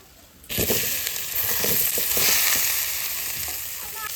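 Boiled potatoes hit hot oil with spices with a sudden loud sizzle, then crackle steadily while a utensil stirs and scrapes in the pan.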